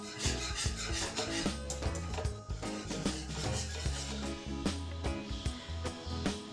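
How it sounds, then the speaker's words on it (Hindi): Thickening custard pudding mixture stirred continuously in a pan over a medium flame, a repeated rhythmic scraping and rubbing with no talking. "अब हम इसको कंटिन्यू चलाते रहेंगे और फ्लेम को मैंने मीडियम ही रखा है"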